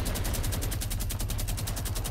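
A Fortnite minigun fires in a steady, rapid, even stream of shots with a heavy low rumble, loud and continuous throughout.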